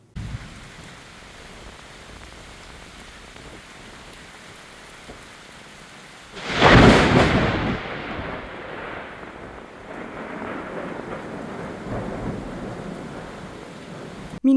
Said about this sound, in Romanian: cerul Severinului a fost brăzdat de fulgere, urmate de tunete înfiorătoare